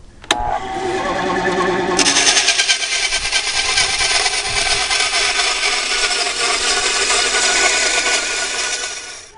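A loud power saw whines steadily as it cuts out the shape of a knife handle, starting abruptly and running continuously at close range with a harsh, buzzing edge.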